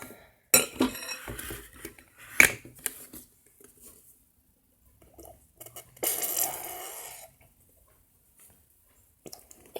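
Butter slime ingredients, cornstarch and body wash, are mixed in a bowl: quick clinks and scrapes of a utensil in bursts, then a rushing stirring patch, with quiet gaps between.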